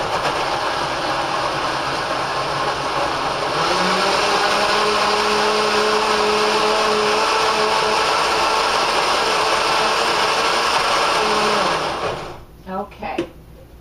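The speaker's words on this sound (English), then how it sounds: "you're going to beat it for about 30 seconds or so" An electric hand mixer beats fudge frosting with a loud, steady whirring drone that holds for about twelve seconds, shifts pitch briefly partway through, then cuts off, followed by a few soft clinks.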